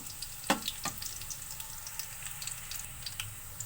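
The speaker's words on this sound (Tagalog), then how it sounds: "Ito, magigisa po muna ako ng bawang." Garlic sautéing in a pan for pakbet gives a soft, steady sizzle and crackle with a couple of sharper pops near the start, all fairly faint and heard alone.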